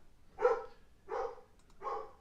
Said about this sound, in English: I've got a barking dog, so I'm just going to pause for a second.